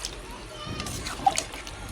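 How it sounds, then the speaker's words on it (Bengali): Chicken curry being stirred in a pot just after water is added, giving soft sloshing and splashing with a brief louder splatter midway, fairly quiet and close. "জলটা দিয়ে একটু নাড়াচাড়া করে নিচ্ছি।"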